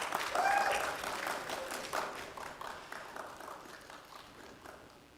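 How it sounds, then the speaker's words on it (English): Audience applause in an engineering theatre at a university math fair, a dense burst of clapping that gradually thins and fades over a few seconds, with a faint voice briefly over it. "Another round of applause,"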